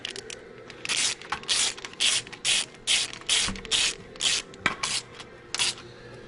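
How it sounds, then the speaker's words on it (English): A hand ratchet running down lubed bolts during a piston install on an ISL engine, clicking in about a dozen steady, close bursts with short pauses between strokes and no talking. "Okay, we're going to run the bolts down on this one."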